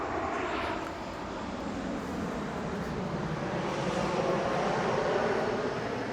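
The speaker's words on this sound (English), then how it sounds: "Here's a plane coming right over close." A propeller airplane passes low and close overhead above a mountain biking trail, its engine a loud broad roar that holds steady and swells slightly as it goes by, with no talking over it.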